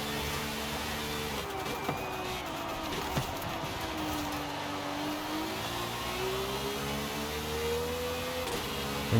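A modified car in Forza Horizon 5 holds a constant engine drone that rises and falls in pitch through the shifts, with no one speaking.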